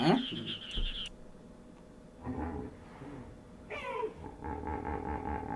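A chorus of frogs croaks in overlapping, rough bursts at a fair distance, over a constant low background noise.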